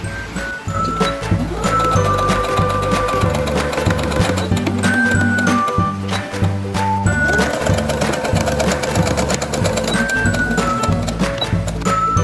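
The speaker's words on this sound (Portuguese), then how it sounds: "rente aqui ao corte, vamos costurar" A sewing machine stitches a double-sided placemat with a mitred corner, running in a loud, steady, rapid mechanical clatter close by, with brief changes in pace throughout and no talking.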